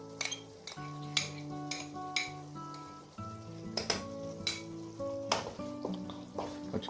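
Yogurt being stirred into peas pulao in a cooking pot, with scraping and clinking of a utensil against metal repeating in short strokes over a steady background hiss, no talking.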